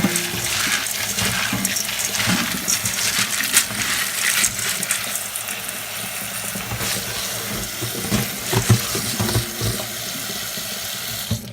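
Dry pinto beans swished and rinsed by hand in sink water, a steady loud sloshing and splashing with rattling, clicking beans throughout, no talk.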